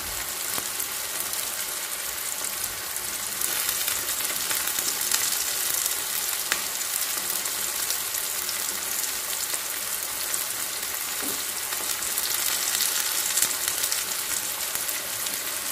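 Chili frying in a pan for ginisang sugpo with pork, a steady dense sizzle and crackle that holds evenly throughout, close and moderately loud with no voices.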